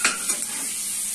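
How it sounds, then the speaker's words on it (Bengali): Paneer frying in a pan as it is stirred: a quick scrape of the utensil at the start, then a steady, close hiss of sizzling oil, with no one speaking. "এখানে পনির ভাজছে"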